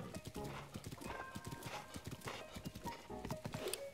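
A horse in the game Zelda: Breath of the Wild climbs a mountain, its hooves clip-clopping in a quick, steady rhythm with occasional snorts and whinnies, close and clear.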